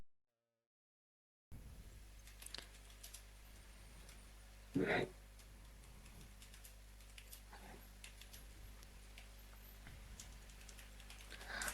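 A query typed on a computer keyboard, faint scattered key taps under low room hiss, with one brief louder clatter partway through and no clear talk.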